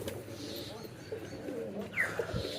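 Weak, sickly pigeons in a loft coo softly and low, a faint murmur under steady background noise, with a brief higher chirp near the end.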